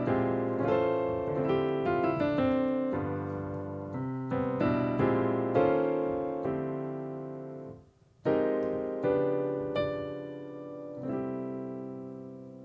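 Piano plays a reharmonized jazz chord progression with a tritone substitution, rich sustained chords decaying one after another before a final resolving C 6/9 chord rings out alone.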